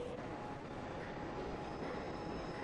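A train rumbles along at a quiet, constant level, a low rolling rail noise with no distinct clacks standing out.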